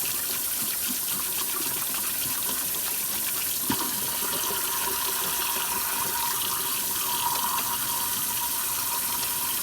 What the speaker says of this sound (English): the first thing you're going to be doing is washing your hands